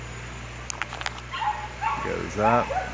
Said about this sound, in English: I apologize for the barking dogs.